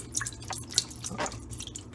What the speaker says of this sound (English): you're gonna pour chicken broth into the base of the Instant Pot